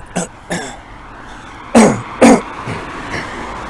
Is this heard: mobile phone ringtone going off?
no